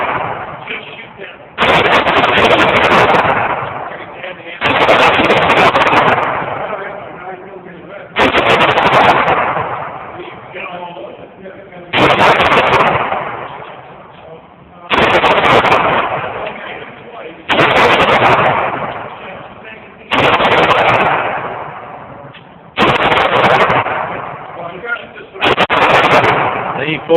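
Handgun shots at an indoor shooting range, about nine loud, close reports spaced a few seconds apart, each with a boomy decay, with voices talking in between.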